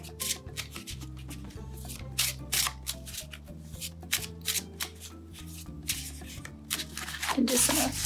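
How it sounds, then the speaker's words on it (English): Playing cards shuffled by hand for a memory matching game, a close, continuous ruffling and riffling with repeated quick bursts of flicking card edges, steady throughout with no talking. "give it a quick shuffle or a mix up"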